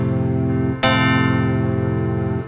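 Stacked layers on a Korg M1 synthesizer sound together as one combination, with a sustained bell-like chord that is struck again with a bright attack just under a second in, rings evenly and then drops off near the end.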